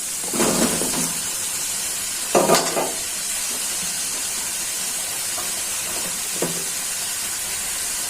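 Eggplant goes into hot frying spice paste for a fish curry, giving a steady loud sizzle and hiss with a few sharper bursts of spattering and stirring, no voices.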